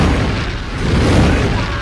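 A loud, rumbling fire-style jutsu blast from an anime ninja battle between Madara and shinobi roars continuously for under two seconds, dense and booming.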